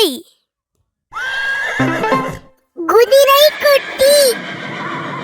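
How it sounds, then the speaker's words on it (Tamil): A horse whinnies loudly and close: a brief high call, a sustained cry after a pause, then a strong, quavering neigh in several pulses that fades out. "குதிரை"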